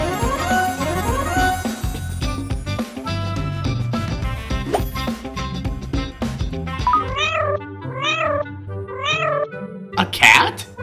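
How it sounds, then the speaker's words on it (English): A cartoon-style cat gives several rising, wavering meows in a row over busy music and voices, the calls clear and fairly loud toward the end. "A cat? You shouldn't be here."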